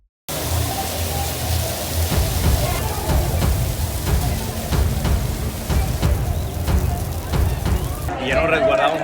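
Rain pouring down outdoors during a Día del Grito street festival in Puerto Vallarta, a loud and steady hiss with scattered heavier drops and thuds, and a voice speaks briefly at the end.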